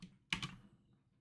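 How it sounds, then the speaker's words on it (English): A couple of quick keystrokes tap on a computer keyboard while code is typed, close and quiet in an otherwise silent moment. "I can type in the variable name, and I can print."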